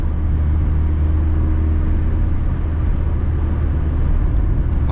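A Mazda MX5 drives along a road, heard from inside as a loud, steady low engine drone and road rumble with no change in pace and no talking.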